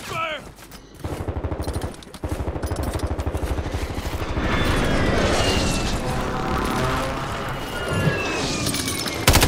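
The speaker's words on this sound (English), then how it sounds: "Hostile airstrike near your location." Airstrike explosions tear through a military shooter video game match, dense and loud, with booming blasts and crackling gunfire. The barrage builds steadily and stays near, under bursts of voice chatter.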